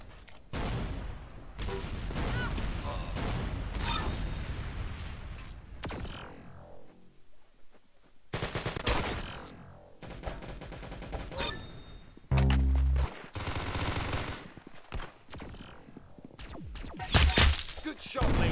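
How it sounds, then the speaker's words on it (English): Bursts of rapid gunfire and booming shots from the video game Arsenal come in loud clusters with short quiet gaps, and some sharp single shots cut in later. "Very good shooting."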